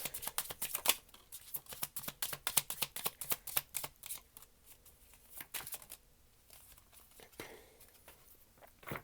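Tarot cards being shuffled and drawn, a rapid dense riffle of crisp card flicks that thins into a few scattered soft slides and taps, close and quiet.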